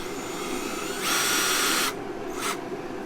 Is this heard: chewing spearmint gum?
no